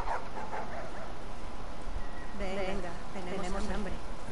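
Dogs bark and yip in the video game The Last of Us, short repeated calls under steady game ambience while a player talks over them.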